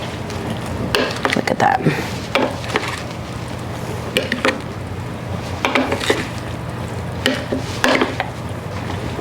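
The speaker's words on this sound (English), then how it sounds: "It's time to toss our salad." A chopped salad being tossed with oil, vinegar, balsamic and pepper in a bowl, giving repeated clinking and scraping of utensils against the bowl in short bursts, with a brief spoken remark.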